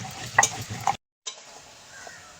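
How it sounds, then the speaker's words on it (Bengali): Spice paste of turmeric, salt and chili powder frying and being stirred in a pan for a fish curry, a short burst of sizzle and scraping, a brief gap of silence, then quieter frying continuing. "হলুদ, লবণ আর লঙ্কার গুঁড়ো দিয়ে মশলাটা কষিয়ে নেবো।"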